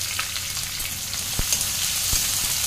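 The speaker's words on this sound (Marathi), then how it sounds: "लसूण व मिरची परतल्यानंतर फ्रेंड्स आपण ॲड करूयात त्याच्यात 2 बारीक चिरलेले कांदे" Finely chopped onions hit hot oil with green chillies and garlic for a red amaranth dish, making a continuous loud sizzle with a couple of sharp taps from stirring, close and without voices.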